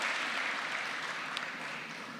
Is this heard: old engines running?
no